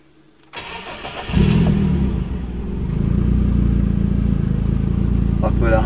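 A 30-year-old BMW E30 with its automatic gearbox in park starts after a brief crank, then idles loudly and steadily close by, with a deep, even engine rumble.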